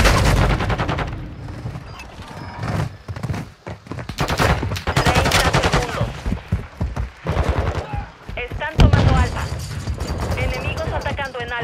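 Rapid gunfire bursts from Call of Duty: Modern Warfare II ranked multiplayer, loud and repeated throughout, mixed with game effects while players talk over it.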